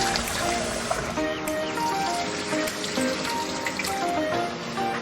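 Soaked dried shrimp are rinsed under a running kitchen tap, with a steady rush of water splashing into a sink, close and fairly loud, with small clinks of handling.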